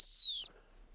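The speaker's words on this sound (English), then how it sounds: "and I blow the whistle" One short, shrill dog-training sit whistle blast, close and loud, dipping slightly in pitch before cutting off into quiet.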